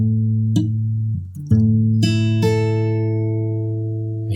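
Guitar strings ring out one at a time, each new note added over the sustained earlier ones until a full chord rings and slowly fades.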